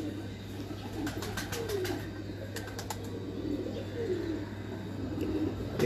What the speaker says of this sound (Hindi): एक और कबूतर लेके आया हूँ